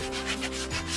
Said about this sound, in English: I'm going to sand all this down